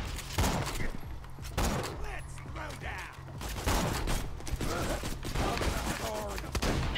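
Shotgun blasts in Borderlands 2 crack out in several loud bursts across a busy firefight, mixed with other gunfire and mechanical clatter while players talk over the action.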